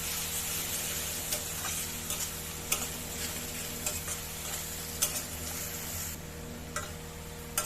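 A spoon stirs salt, turmeric and chili powder into masala frying in a pan, steady sizzle with repeated scraping taps throughout, close and moderately loud, no voices.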